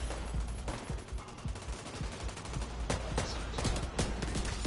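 Gunfire in the video game The Division 2 comes as a dense, continuous barrage of rapid shots and bursts over a noisy, crackling background, several volleys landing close together.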